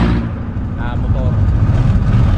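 A motorbike engine idles steadily as it warms up, a close, continuous low rumble with someone talking over it.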